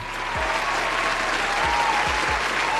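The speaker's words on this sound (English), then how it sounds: "Give him a round of applause." Audience applause fills the room for several seconds, dense and even, with only light background murmur and a few low thumps beneath it.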